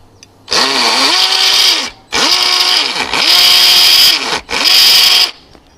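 A power drill in hammer mode bores into tile, loud and close, in four sustained whirring runs separated by short pauses, its pitch dipping and recovering under load.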